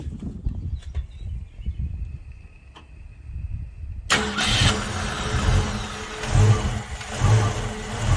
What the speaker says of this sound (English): Okay, go ahead and start it up, and we're going to check timing.